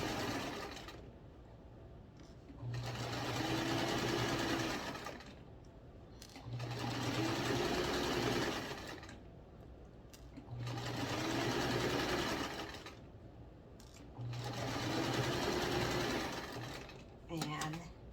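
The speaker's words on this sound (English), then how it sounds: "I'm going to stitch it right on the line that I drew." A domestic sewing machine stitching along a drawn line on fabric runs in four steady, close whirring bursts of a few seconds each, with short pauses between them and a brief mechanical clack at the end.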